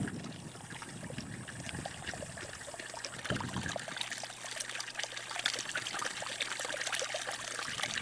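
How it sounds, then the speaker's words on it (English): A mountain brook at Aguirre Springs flows steadily nearby, a continuous rushing and trickling of water with no pause from start to finish. "The sound from this brook is amazing."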